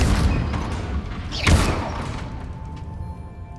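Incendio fire spell cast in Hogwarts Legacy, a single loud whooshing burst with a deep boom at its core, rising out of a low rumbling background and fading away.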